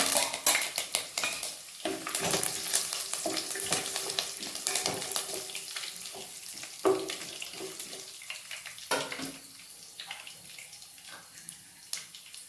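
Chana dal, peanuts, curry leaves and dry red chilies crackle and sizzle in hot oil for tomato pulihora, a steady frying hiss with scattered pops and clinks of a utensil against the pan.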